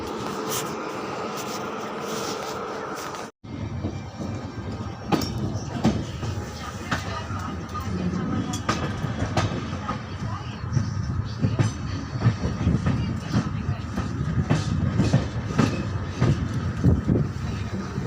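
Suhaildev Superfast Express train running on broad gauge track, heard as a steady close rumble with rattling and clicking of the coaches, a brief cut near the start, and faint voices in the background.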